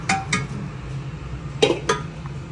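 Metal cooking pot of nihari set down on a kitchen stove: two quick clinks near the start, then two more sharper metallic knocks and clanks a moment later, close and moderately loud over a faint hum.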